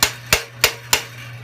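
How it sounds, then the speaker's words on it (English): A wire brush handle taps four times in a steady rhythm against the ratchet clutch on the flywheel of a Snapper 5 HP Briggs and Stratton engine, each tap a sharp, close metallic knock with a short ring. "Put it against the ratchet clutch. I just tap on it a few times."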